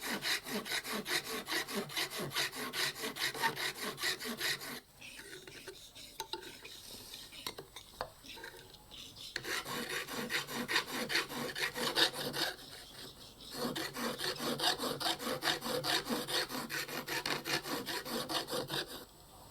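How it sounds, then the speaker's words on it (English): A metal piece for a traditional shrine is dressed with a file after trimming with shears, giving steady rhythmic rasping strokes, close and fairly loud, with a few short pauses between bursts. "After cutting away the excess with shears, the piece is polished with a file."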